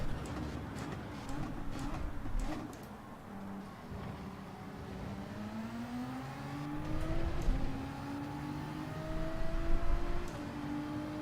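Ferrari engine in the racing game Gran Turismo 7, a steady droning tone that climbs in pitch through repeated gear-like rises, moderately loud and continuous with no talk over it.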